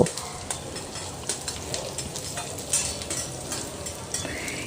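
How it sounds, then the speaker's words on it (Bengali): Mixed vegetables, including potato and bitter gourd for a Bengali chorchori, fry on high flame in a pan with a close sizzle, while a spatula stirs and scrapes them in quick, repeated strokes; no one speaks. "এবারে মিনিট খানেক কি মিনিট 2 হাই ফ্লেমে সমস্ত সবজি একসঙ্গে একটু ভাজা ভাজা করে নেব"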